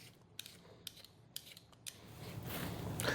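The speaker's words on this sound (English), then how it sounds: "First, I'm gonna peel my potatoes" A peeler scrapes across sweet potatoes in a few sharp, separate strokes, close and quiet, followed by a rising rustly hiss.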